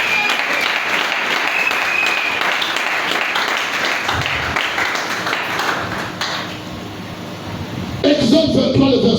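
A church congregation claps steadily in applause acclaiming the Lord, a dense wash of hands that thins out midway before a voice and louder sound return near the end.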